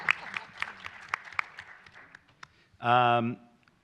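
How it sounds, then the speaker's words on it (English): Scattered, light applause comes from a small audience at a university panel event, the individual claps distinct and thinning out over a couple of seconds before a short voiced sound rises clearly above the room. "Please, applause."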